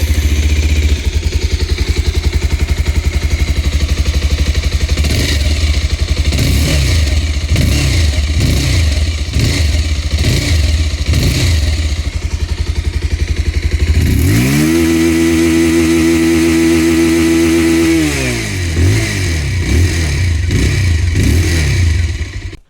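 A 2026 Bajaj Pulsar 220F motorcycle with a large matte-finish exhaust is revved in a rhythmic series of sharp throttle blips, then held at a steady high rev before dropping back. It is loud, close and has no talking.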